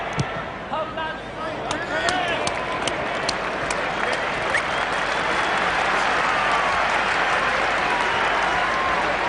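A rugby crowd at Aussie Stadium in Sydney applauds and cheers during a Scotland versus Fiji match, with sharp claps standing out early before settling into a broad, sustained roar under a commentator's voice.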